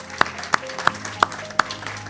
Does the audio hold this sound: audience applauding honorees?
yes